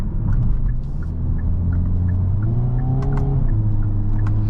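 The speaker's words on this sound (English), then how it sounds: "I literally just like put my foot halfway on the gas while downshifting twice, and then the wheels spin out." A 2023 Hyundai Kona N with a dual-clutch transmission and front-wheel drive, heard from inside as the engine drones under part throttle, then blips and rises in pitch through two quick downshifts while the front wheels spin.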